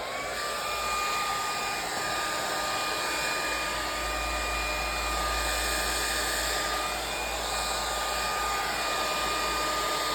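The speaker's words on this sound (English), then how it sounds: "Now in this case, I'm going to use the hair dryer" A hair dryer blows continuously to dry a freshly dyed leather car seat, a steady, fairly loud whooshing hum with a constant motor whine that never changes over the whole stretch, with no voices.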